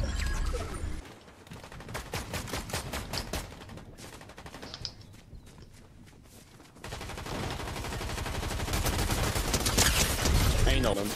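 Video game gunfire rattles in rapid automatic bursts, dense volleys that briefly thin out before a long, loud, sustained barrage, with voices talking over the shooting.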